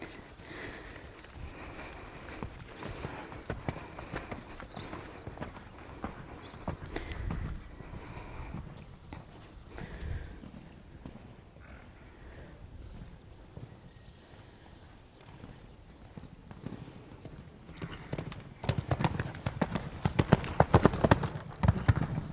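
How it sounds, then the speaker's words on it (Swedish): A horse's hooves thud and clop on the ground as a rider takes it over show jumps in a riding arena, quiet and irregular at first, then louder hoofbeats building near the end. "Och denna hästen är väldigt avspänd och fin och hoppar inte jättehögt."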